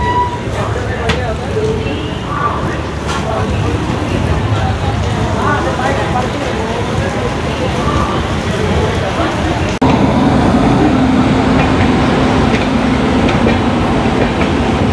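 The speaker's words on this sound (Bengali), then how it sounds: "সাঁতরাগাছি তিরুপতি এক্সপ্রেস নির্ধারিত সময় 2:50 থেকে 5 মিনিট লেটে সাঁতরাগাছির 1 নম্বর প্ল্যাটফর্ম থেকে ডিপার্ট করলো" The Santragachi–Tirupati Express pulls out of platform 1 at Santragachi station in heavy rain, a continuous close rumble and wheel clatter mixed with rain noise and voices.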